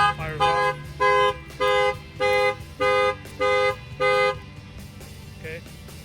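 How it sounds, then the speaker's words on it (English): A 2020 Jeep Wrangler car alarm blares in a repeating pattern of loud electronic tones, about seven evenly spaced bursts, close by. "If a door is open, the alarm will fire off"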